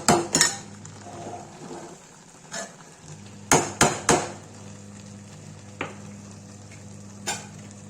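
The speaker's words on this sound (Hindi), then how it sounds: "देखिए गाइस न्यूट्री आलू भुज रहा है" Soya chunks and potato pieces fry in a pan with a steady low sizzle, broken by several sharp clanks and scrapes of a spoon against the metal, close and fairly loud.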